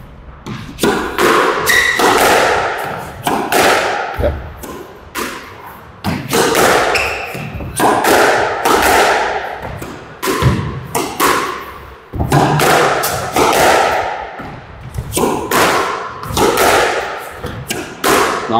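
A squash ball is struck repeatedly during a practice session, giving loud, sharp thwacks and thuds off racket and walls in a fast, continuous rally rhythm.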